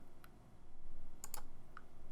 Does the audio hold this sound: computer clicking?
yes